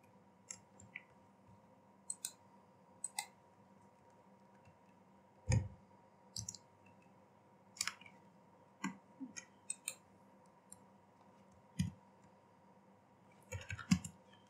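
Keys on a computer keyboard click in sparse, irregular taps and short bursts, like key shortcuts being pressed while typing, close and fairly faint against a quiet hum with no talk.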